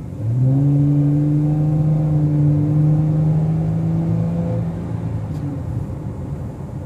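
A base-trim 2014 Dodge Challenger pulls hard down a straightaway, its engine rising in a steady loud drone with clear harmonic tones before easing off, heard from inside the car.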